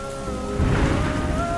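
Heavy rain falls in a steady, loud, close hiss on surfaces, with the downpour swelling midway through a short stretch and a low rumble underneath.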